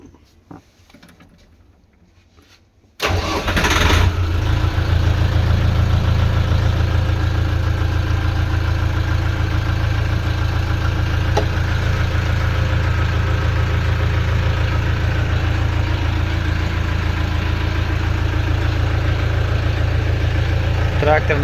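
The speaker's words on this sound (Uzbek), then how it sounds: "Traktor ishlashi mana" After a brief quiet start, a YTO 354 tractor engine in Bukhara starts up and settles into a steady, loud, low idle that drones on without pause.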